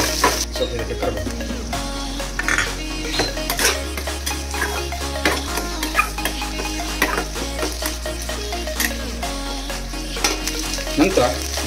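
Okra (bhindi) frying with curry leaves in a pan, a close, continuous crackling sizzle broken by repeated scraping and clinking of a spatula as it is stirred, with no talk.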